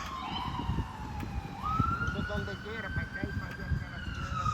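A siren wails steadily in the distance, its pitch rising and holding, over low traffic rumble and nearby voices at a cemetery in Kissimmee, Florida.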